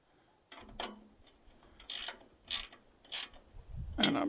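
Guides being tightened back into position, giving a series of quiet, close ratcheting clicks in short separate bursts against near silence.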